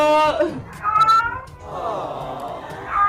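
A mother cat meows in long, drawn-out wailing cries, loud and close, repeating several times with short pauses.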